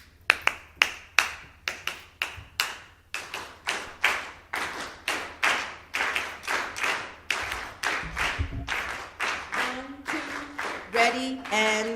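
An audience claps the habanera rhythm together in a repeating syncopated pattern of sharp, close group claps that continues steadily, with some voices and sung tones rising near the end.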